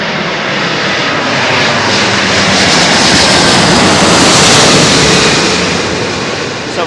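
A big jet airliner on approach or departure at London Heathrow roars overhead, loud and close, a broad sustained rumble that swells to a peak and then eases slightly as it passes.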